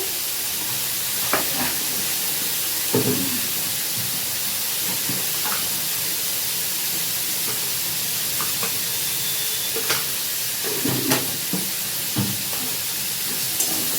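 Bitter gourd and potato curry cooking in a pan, a continuous steamy sizzle and hiss with occasional soft stirring clicks and scrapes, close and steady throughout, no voices.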